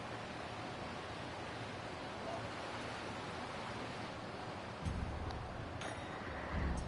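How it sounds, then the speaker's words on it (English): Ocean waves crashing near Kugane in Final Fantasy XIV, a continuous broad roar of surf with a couple of slightly stronger swells toward the end. "The smell of the salt and the crash of the waves as we drew closer to Kugane"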